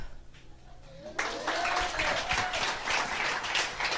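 An audience at a business opportunity plan presentation breaks into clapping after a quiet pause, a sudden broad burst of applause that continues evenly to the end.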